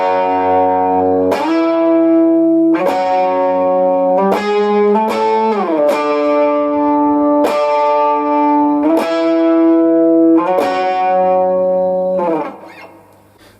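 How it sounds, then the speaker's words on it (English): A lead electric guitar riff from a second pre-chorus plays sustained, distorted notes with slides between pitches, loud and alone, before the sound cuts off at the end. "The second bit of lead guitar we're going to have a look at happens in the second pre-chorus, and it sounds like this."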